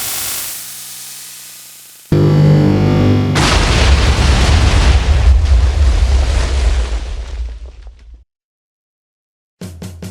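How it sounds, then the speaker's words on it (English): A TNT minecart launcher in Minecraft sets off a loud, sudden explosive burst. A roaring, crackling blast rushes for several seconds and cuts off to silence, then a brief burst returns at the end. "used it to make a movable, automatic TNT minecart launcher"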